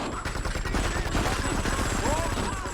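Rapid gunfire from the video game Grand Theft Auto III forms a dense, continuous burst of shots throughout, with voices talking over it.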